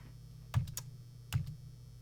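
A few keystrokes on a computer keyboard while entering a search, two quiet clicks spaced under a second apart over a low steady hum.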